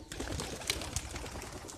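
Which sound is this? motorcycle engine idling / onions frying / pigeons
pigeons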